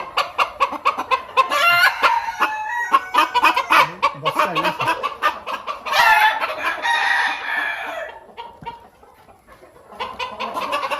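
Sultan chickens on a poultry farm, loud and close, clucking in quick repeated bursts with several drawn-out crows, falling briefly quieter near the end before the clucking picks up again.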